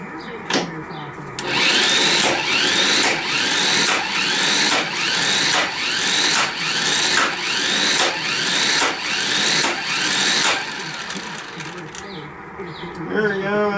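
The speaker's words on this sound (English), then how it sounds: "this lug nut wrench fits good on these impact wrenches nicely" An impact wrench with a lug nut socket loosens large trailer hitch bolts, a loud, rapid hammering rattle pulsing in regular bursts for about nine seconds before stopping, close to the microphone, with a voice heard around it.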